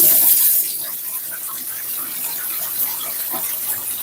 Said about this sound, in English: I'm just going to rinse this knife off quickly.